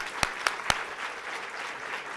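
Conference audience at a mayor's small business event claps in a soft, diffuse patter, opening with three sharp, close, separate claps before the scattered applause settles into a steady, fairly quiet wash.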